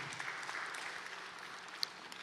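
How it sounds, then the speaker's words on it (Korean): A congregation applauding during a church worship service, steady dense clapping heard from a distance and fairly soft, with no talk over it. "영광의 박수 올려드립시다"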